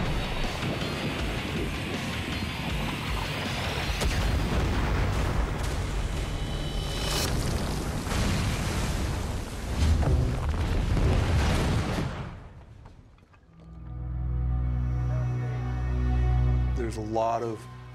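A film explosion from a Suicide Squad battle scene: a dense, roaring wall of blast and debris noise that rumbles for about twelve seconds, then drops away into lower rumbling while a voice speaks over it.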